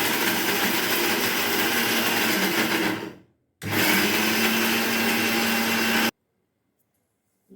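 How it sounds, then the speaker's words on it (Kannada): A mixer grinder whirs loudly and steadily while grinding dry coconut with salt, then stops briefly, restarts for a second burst and cuts off to near silence. "ಮಿಕ್ಸಿ ಮಾಡ್ಕೊಳ್ಳೋಣ"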